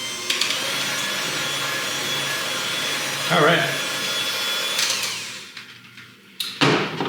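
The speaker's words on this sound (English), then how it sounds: "Give it one more whirl of the power tool blender." A loud, continuous whirring of an electric blender mixing chocolate cake batter close by, steady for several seconds, dipping briefly before surging again; a voice speaks briefly.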